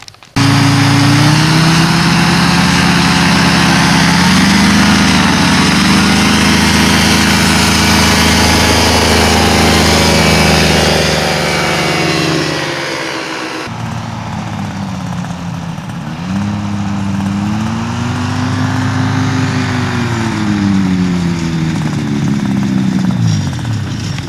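An engine, started with a starter motor, runs loud and steady close by with a rough droning tone whose pitch rises and falls, shifting to a slightly quieter idle partway through, with no talking.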